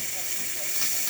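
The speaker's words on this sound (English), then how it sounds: "Now we're gonna test the steam of this side." A DeLonghi espresso machine's steam wand, just serviced for a steaming fault, gives off a steady, close, bright hiss that runs unbroken from start to finish.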